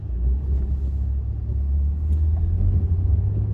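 Audi S4 quattro on winter tires pulling away from a stop up a snowy, icy hill, a low muffled engine rumble from inside the cabin, steady and moderately loud with no talking.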